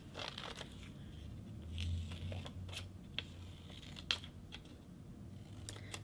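Scissors freehand-cutting an evergreen tree shape from paper in a craft session, a series of short crisp snips and crunches at an uneven pace, close and fairly quiet, with no talking.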